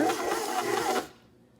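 Electric mixer kneading bread dough, a steady loud motor whir with rhythmic thumping for about a second before it cuts off abruptly, leaving quiet.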